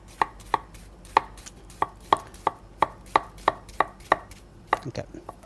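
A knife chops an onion on a chopping board in steady, crisp strokes, about fourteen sharp knocks in a fairly even rhythm, close and clear, with no talking.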